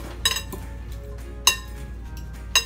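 A light fennel salad is tossed in a bowl, and utensils strike the dish in sharp clinks, one short cluster followed by two single knocks at close range.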